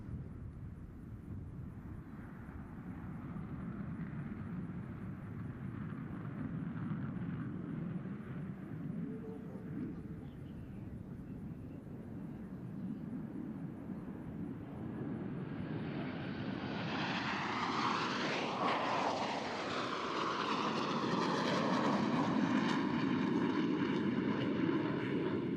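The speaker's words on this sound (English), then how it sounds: "on Captain Kesselring's command, all 4 pilots will simultaneously roll their aircraft 360 degrees as they perform the Diamond aileron roll" Four jets of the Diamond formation perform an aileron roll at the NAS Oceana air show, a distant engine rumble building slowly then swelling into a loud, close roaring pass in the final seconds.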